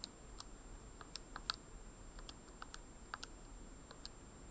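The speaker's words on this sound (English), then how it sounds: "So I could just type it in just like that." Number keys tapped on a calculator, a run of light crisp clicks at an uneven pace, close and fairly quiet over a faint steady hum.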